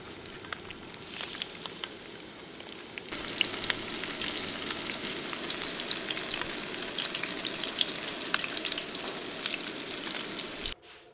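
Crappie fillets frying in hot oil give a dense, continuous crackling sizzle with scattered pops, loud and close, ending abruptly with no voices.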